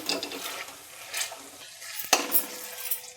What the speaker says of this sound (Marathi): आता थोडंसं असं मॅश करून घेऊया